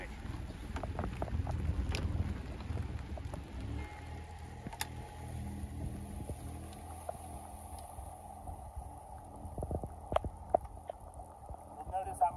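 Motor boat engines idle and rumble low as the boat maneuvers on throttles out of a Croatian marina past buoys in gale conditions, with wind noise and a few knocks over a steady hum.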